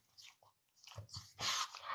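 A dog close by making short snuffling, chewing-like mouth sounds and brief bursts of noise, with quiet gaps in between.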